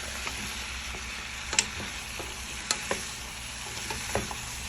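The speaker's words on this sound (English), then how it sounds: "I'm just going to stir it all together" Steak and potatoes frying in a pan, a steady hiss of sizzling oil with scattered scrapes and light clinks as the mixture is stirred, close and fairly loud, with no voice.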